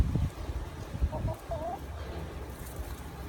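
Free-range barred rock chickens clucking softly outdoors, a few short murmuring calls over low rustling and background noise, moderately near.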